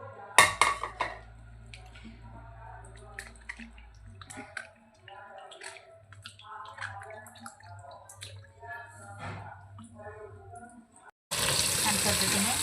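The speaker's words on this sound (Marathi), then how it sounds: "आता याला आपण पाण्यामध्ये छान असं वॉश करून घेऊया." Large lemons are washed in water in a home kitchen, with light splashing, dripping and the clatter of a bowl. A steady hum sits underneath, and a burst of loud running water comes at the end.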